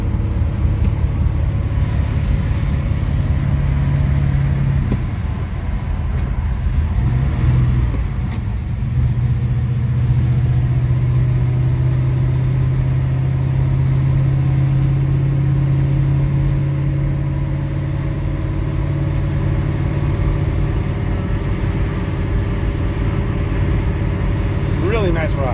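A 1969 Chevy Nova coupe sleeper with a high-performance build drones steadily while cruising at about 50 mph, a continuous low engine hum with faint road noise heard from inside the car, constant in level throughout.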